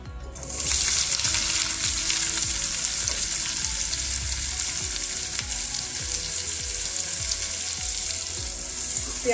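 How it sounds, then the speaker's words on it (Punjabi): Chopped onions hit hot oil with toasted cumin in a pan and break into a loud, steady sizzle that carries on unbroken, with faint stirring scrapes and no voices. "ਪਿਆਜ਼ ਪਾ ਕੇ ਇਹਨਾਂ ਨੂੰ 3 ਤੋਂ 4 ਮਿੰਟ ਗੋਲਡ ਬਰਾਊਨ ਬਰਾਊਨ ਹੋਣ ਦਵਾਂਗੇ"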